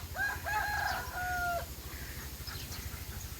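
A rooster crows several times at a distance on a rural rice farm, drawn-out calls over a steady low hum of wind, with no talking.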